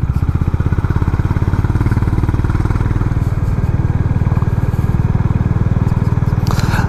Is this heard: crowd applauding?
no